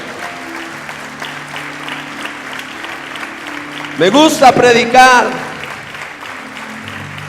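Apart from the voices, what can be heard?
congregation applauding in church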